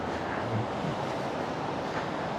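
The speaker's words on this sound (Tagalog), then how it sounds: "Eh, alon, no?" Sea waves washing onto the shore under wind buffeting the microphone, a continuous broad rushing roar without distinct breaks.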